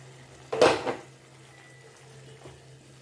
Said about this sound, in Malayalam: കറി നമുക്ക് തുറന്ന് നോക്കാം.